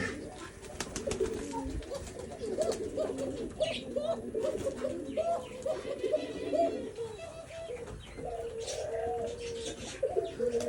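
Pigeons in a village pigeon house coo in repeated, overlapping, throaty calls close by, with faint rustling and occasional distant voices in the background.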